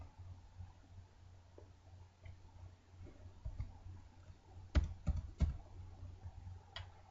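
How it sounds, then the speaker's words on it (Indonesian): Keys tapped on a computer keyboard while working in a retail point-of-sale cashier program, a few sharp, close clicks with a cluster of firmer presses near the end over quiet room hiss. "Kita tekan tombol enter pada keyboard."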